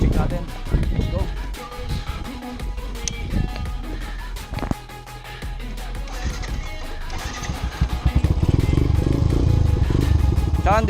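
Yamaha SZ 150 motorcycle fitted with an Akrapovic full exhaust system and a 28mm Keihin carburetor, engine running and revving with a rumbling exhaust that swells louder toward the end, mixed with road and background noise.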